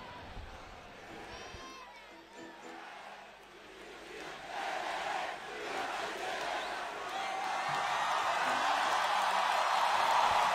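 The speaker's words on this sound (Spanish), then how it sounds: "Aplausos, se levantan los Juanitos, suben al escenario los músicos" Audience at a concert celebrating a band's 50 years applauds, cheers and shouts as musicians take the stage; the crowd noise swells from a quieter start to a sustained roar, with a voice speaking early on.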